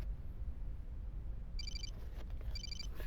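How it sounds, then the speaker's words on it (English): Ringing telephone in the video game Xenosaga Episode 1: two short bursts of an electronic trilling ring, about a second apart, loud over a low background hum with no talking. "It's a phone."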